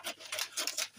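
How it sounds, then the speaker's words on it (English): Close, quiet snips of scissors cutting out a paper corset pattern, several quick strokes in a steady rhythm. "Okay, so I'm just cutting out the pattern."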